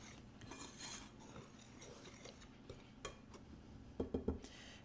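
A spoon stirs dry flour, baking powder, baking soda, salt and sugar in a bowl, quiet scraping and rustling followed by a few sharper taps and clinks near the end.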